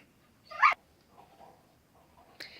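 An excited dog with a ball gives a sharp high whimper, then soft low whines, and a second brief yelp at the end, close and quiet against a silent room.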